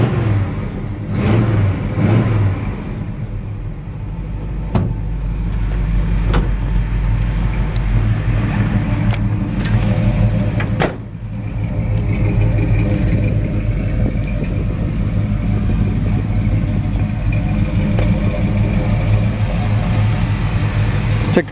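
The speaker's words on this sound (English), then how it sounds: "Got a nice strong running 454." A 1957 GMC 100 pickup's 454 V8 runs steadily with a loud, rough rumble and a few sharp blips, close by and continuous, with no talking over it.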